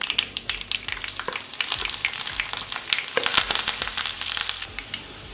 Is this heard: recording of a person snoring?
no